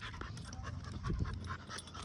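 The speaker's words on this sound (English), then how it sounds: "You can tell this dog's still a puppy, bro." A pit bull puppy pants quickly and close by, a run of short breathy huffs that stays fairly soft throughout.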